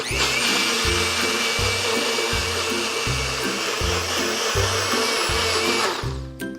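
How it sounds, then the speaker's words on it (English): A blender whirs through a chocolate collagen chia pudding with chia seeds, a loud, close motor drone pulsing in a regular rhythm under a steady whine before winding down at the end. "You'll notice I included the chia seeds in the blender."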